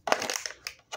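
Scissors cut into Bakugan toy packaging with a close, crunchy plastic snip and crackle, followed by two shorter crinkling bursts.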